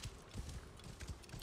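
Horse hooves clip-clop in Assassin's Creed Origins, a quiet, steady rhythm of soft thuds at a walking pace, low in level with no talking.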